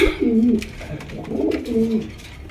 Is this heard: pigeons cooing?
yes